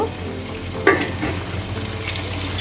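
Boiled dal being tempered in hot oil gives a continuous close sizzle, with a sharper hiss and brief clatter just under a second in, then steady frying noise.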